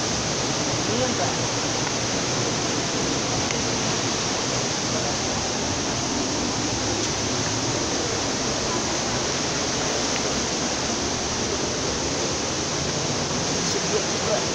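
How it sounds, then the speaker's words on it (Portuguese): The Concórdia waterfall on a forest trail in Guapimirim, Rio de Janeiro, rushes as a loud, steady, broadband roar of falling water that continues without a break from start to finish. "E a famosa cachoeira da Concórdia."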